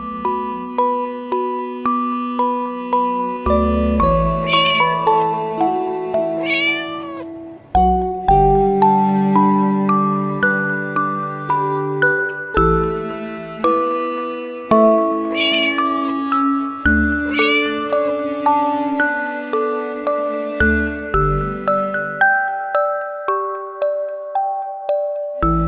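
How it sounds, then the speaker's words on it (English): Cat meowing as a sound effect, several drawn-out meows in two separate bursts, set against a continuous tinkling, chiming background tune. "Cat."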